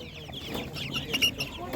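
Chickens clucking and squawking close by at an animal market, with a few sharper calls rising over a steady background murmur.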